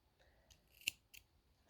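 Scissors snip crochet yarn in a few quick, faint, close-up cuts with short pauses between them.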